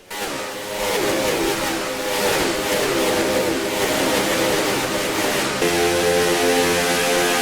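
Race car engines roar in the NR2003 NASCAR sim, a dense, loud, sustained howl of several stock cars at speed on the oval, pitch sliding as the pack moves, with no talk over it.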